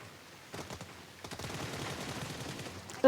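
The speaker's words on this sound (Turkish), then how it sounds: "Yarım saattir ben onu sıkıyorum. O da bana sıkıyor." Rapid gunfire bursts from the mobile battle royale game PUBG Mobile, repeated shots rattling steadily and fairly loud through the whole stretch, with a sharp louder hit right at the end.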